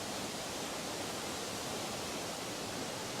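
Paraeso waterfall in the Sinbulsan forest gives a continuous, even rushing roar of falling water that fills the whole stretch with no other sounds.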